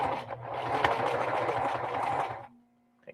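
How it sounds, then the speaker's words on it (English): A sewing machine stitches along the top edge of a rhinestone bag, a close, steady motorized whirring that runs about two and a half seconds and then stops, leaving a faint hum. "so take this clip off, and I'm going to stitch."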